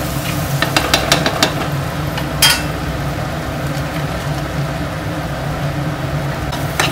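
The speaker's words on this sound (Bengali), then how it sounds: "আমার এটা টমেটো দিয়ে ভালো করে ভাজা হয়ে গেছে" Spice masala with tomato frying in a pan, a steady low sizzle running throughout with a few sharp clinks and scrapes of a utensil stirring.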